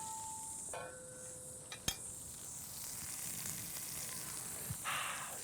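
A bacon sandwich with melting cheese toasting in a frying pan, giving a soft, steady sizzle and crackle with a couple of sharp clicks and a faint tone early on.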